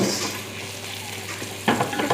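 Shrimp frying with curry, cinnamon and cumin powders sizzles steadily in a pan, then a utensil scrapes and stirs near the end, with no talking.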